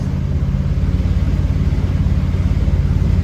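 A 1965 Lincoln Continental Convertible rolls along, its engine giving a steady low drone with a regular throbbing pulse, close and loud throughout, with no clear gear-change break.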